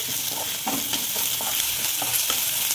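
Salt being stirred into masoor dal in a pot, a spoon scraping and clinking in repeated strokes over a steady sizzle, close and clear with no talk.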